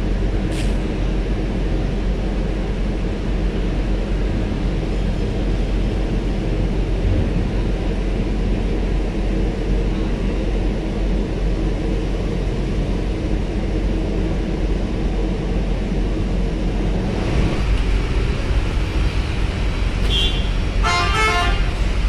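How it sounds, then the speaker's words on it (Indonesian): Heavy trucks idling and queuing at dock 3 of a ferry port, a steady low engine rumble throughout with a brief horn toot near the end. "masih sore aja sudah dipadati untuk kendaraan truk nih"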